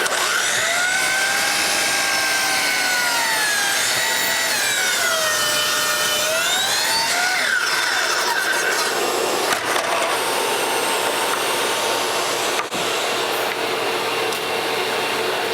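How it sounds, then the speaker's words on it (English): A miter saw rips lengthwise through a sheet of plywood for an indoor ladder: a loud, continuous whining cut whose pitch sags and recovers as the blade loads up, then gives way to a rougher grinding rasp near the end. There is no talk. "miter saw blades are meant to cross cut, not to rip, and I'm sort of doing a rip here"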